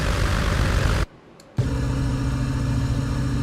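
A Fokker F.VII propeller plane in Flight Simulator X drones with a steady, loud engine roar that cuts out briefly to near silence, then returns just as strong and continues evenly.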